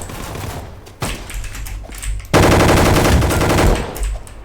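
Rapid automatic gunfire from a weapon in the Roblox game Gunfight Arena, a quiet stretch of shots giving way to a loud, dense burst of rattling fire that runs most of the way through.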